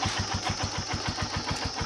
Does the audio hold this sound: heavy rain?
no